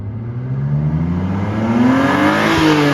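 A BMW Z3 3.0i with the M Sport package accelerates hard, its straight-six engine note climbing steadily in pitch from a low growl to a strained rev, close and loud with no talking.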